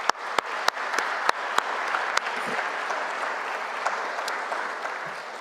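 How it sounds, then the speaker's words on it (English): A large audience applauds mentors and investors at a startup program event, with sustained clapping marked by a few sharp, distinct hand claps near the start, then settling into an even roar. "Let's give them all a round of applause"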